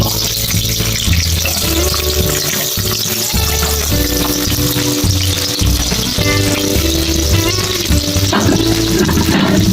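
Onions frying in about four spoons of oil in a pan for a fish gravy give off a steady, loud hissing sizzle, joined by background music with sustained tones.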